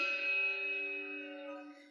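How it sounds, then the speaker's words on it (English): A low G2 bronze Malmark English handbell rings once, a single sustained tone with clear overtones that slowly decays, heard alone and close. "We play a 6-octave set of Malmark English handbells."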